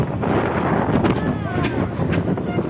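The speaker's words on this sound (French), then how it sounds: "il y a un petit peu plus de vent quand même ici" Wind buffets the microphone at the La Ciotat toll plaza on the motorway between Marseille and Toulon, a steady broadband rush that runs throughout with a voice talking over it.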